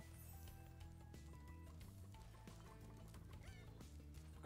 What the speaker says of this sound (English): we've got chickens here that we need to collect for health